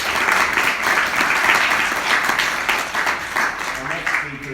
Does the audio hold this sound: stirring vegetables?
no